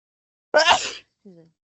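A single sharp, breathy sneeze, followed by a brief faint voiced sound.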